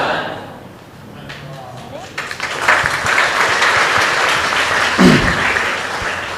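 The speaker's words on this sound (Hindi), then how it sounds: "अब आपने ताली क्यों बजाई मुझे नहीं पता" A crowd bursts into clapping during a Hindi Christian sermon, starting after a quieter moment and swelling into loud, sustained applause with a voice breaking through near the end.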